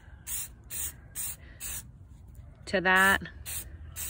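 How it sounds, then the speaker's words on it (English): Several short, sharp hissing bursts from an aerosol spray paint can laying a light coat over homemade air dry clay, evenly spaced puffs, with a brief spoken phrase breaking in midway. "I'm gonna shake up my spray paint and just give a light coat"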